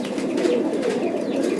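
Pigeons coo in a steady, continuous low murmur, close and fairly loud throughout, with no talk over it.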